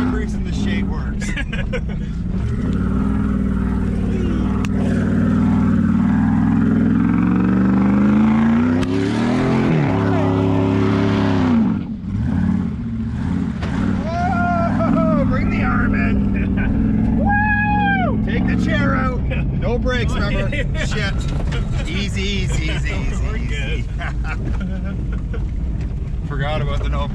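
Dodge Dakota pickup truck engine roaring steadily as it drives and drifts, with revving pitch sweeps and loud engine noise throughout, while people talk and shout inside the cab.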